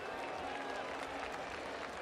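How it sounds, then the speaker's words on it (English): A crowd in an esports arena at a Dota 2 International match cheers and applauds in a faint, continuous wash of noise, with a voice speaking over it. "All right, crowd, let's take it easy."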